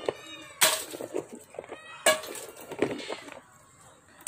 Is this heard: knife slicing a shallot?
no